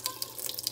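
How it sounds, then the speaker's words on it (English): A basement faucet runs with a soft, steady hiss of flowing water, faint and close, broken by small splashy bursts as the stream hits the sink. "I turned the water on in my basement."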